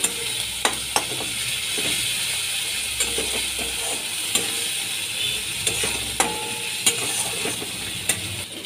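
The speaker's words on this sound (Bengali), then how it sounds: "ভালো করে কষিয়ে নিচ্ছি" Spices with turmeric and salt sautéing in a pan, with steady sizzling and repeated light scrapes and clicks of a spatula stirring at a regular pace.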